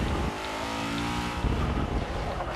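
A 1970 Chevrolet El Camino roars as it accelerates in Forza 6, the engine note climbing in pitch, briefly settling, then building loudly again through a gear change.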